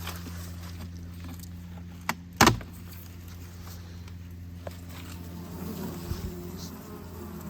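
A steady low honeybee buzz hums throughout from a small winter cluster in a five-frame nuc hive, with a brief sharp clack partway through and faint rustling near the end.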